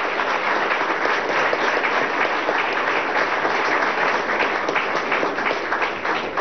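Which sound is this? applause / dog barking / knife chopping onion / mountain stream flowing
applause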